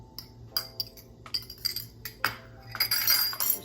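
Eggs beaten in a bowl for banana bread batter, a quick run of light clinks and taps of utensil against the bowl, close and rhythmic, getting busier toward the end.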